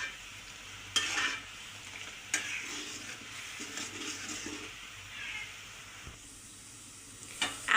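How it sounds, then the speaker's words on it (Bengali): Spiced masala gravy with egg and tomato being sautéed and stirred in a pan, giving a faint soft sizzle with a few sharp clinks of a utensil, quiet and close. "তো হচ্ছে আমি আরও বেশ কিছুক্ষণ কিন্তু কষিয়ে নেব।"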